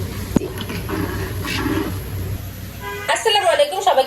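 A little water is poured into a cooking pan of spiced small rohu fish (phona fish bhuna), giving a steady splashing rush for about three seconds before a voice speaks over the stove.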